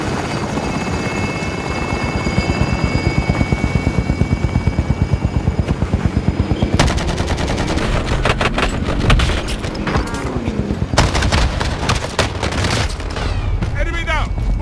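A helicopter hovers overhead in the video game Warzone, its loud, rapid rotor chop pulsing steadily before bursts of gunfire and rattling shots crowd in over it.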